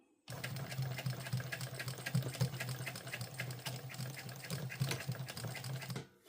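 A sewing machine stitching a bum bag runs in one steady burst of rapid mechanical stitching, close and even, stopping abruptly after about six seconds.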